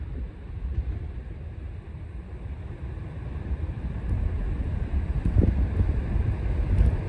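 Strong wind buffets a covered microphone on a beach at low tide, a steady loud low roar with gusts swelling toward the end.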